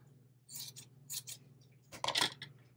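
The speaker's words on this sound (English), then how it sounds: "so I can trim that off" Scissors snip thread while slow-stitching a junk journal topper: a few short, crisp cuts close by, with a low steady hum underneath.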